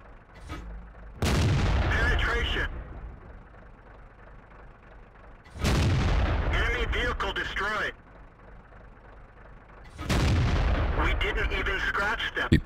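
StuG III assault gun cannon in World of Tanks fires three heavy booming shots, each spaced about four seconds apart with a long rumbling tail and a brief metallic reload clatter after, loud and close.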